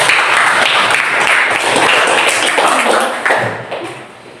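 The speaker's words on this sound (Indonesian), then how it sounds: "Ya, tepuk tangan." A classroom of students at an Indonesian Islamic junior high school (MTs) in an Al-Qur'an Hadith lesson claps together, a loud, dense burst of applause that fades out toward the end.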